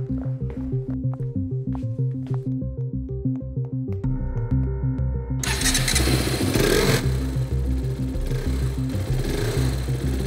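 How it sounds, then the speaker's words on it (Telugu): A new motorcycle engine starts partway through and keeps running loudly, a dense rumble that follows a stretch of tonal film music still playing underneath. "కొత్త బైక్ కొన్నావా?"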